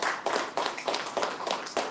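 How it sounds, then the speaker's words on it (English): A small audience at a workforce training event claps for a speaker, a sparse, uneven patter of nearby hands in short bursts rather than a full ovation. "Please round of applause."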